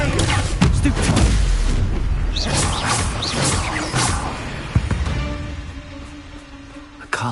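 Bombarda and Confringo spells in Hogwarts Legacy detonate in a quick string of booming, crashing explosions, loud and close at first and then tailing off, with one more sharp blast near the end.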